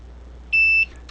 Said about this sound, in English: When it beeps, that means that, hey, it found the AK90 piece of equipment.